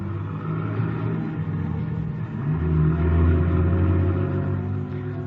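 A car engine starts and drives off as a radio drama sound effect, a steady mid-pitched rumble that swells into a louder rev partway through and then holds, close and continuous, with no voices.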